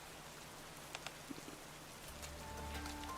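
Steady rain falling in the video game Nikke, an even soft hiss with a few faint drop taps, heard alone without talk.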